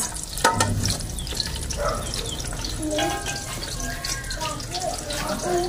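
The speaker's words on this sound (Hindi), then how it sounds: "अब थोड़ा सा घी और डाला है, तो उसमें जी मसाले जी अभी मैं डाल के और थोड़ा सा ना मसालों को भूनूंगी।" Spices frying in ghee in a pan, a steady close crackling sizzle with stirring scrapes throughout, plus some watery splashing and faint background voices.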